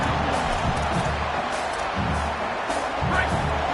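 Stadium crowd roaring steadily through a college football game in CFB 27, a broad continuous wash of fan noise with faint commentary-like voices underneath.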